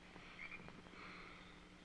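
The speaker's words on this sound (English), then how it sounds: "Listen to the frogs." Frogs croak softly in a quiet outdoor setting, a faint rhythmic chorus with a few brief higher calls and no one speaking.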